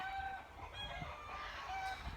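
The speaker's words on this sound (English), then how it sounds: "There's like massive applause from all the chickens in the background, if you can hear them." Chickens cluck softly in the distance, a faint, scattered chatter of farm birds with occasional higher calls.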